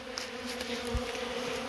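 A honeybee gathering pollen gives a steady, close buzzing drone that holds unbroken, loud and alone, for under two seconds.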